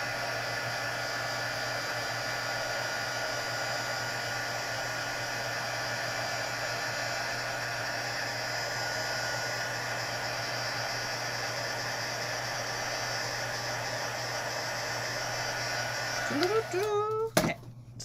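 A heat embossing tool blows a steady, close, whooshing roar while melting embossing powder on a card, holding an even hum throughout before a brief clatter near the end.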